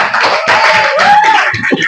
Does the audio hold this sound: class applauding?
yes